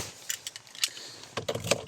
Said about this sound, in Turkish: anahtarımızı çıkartalım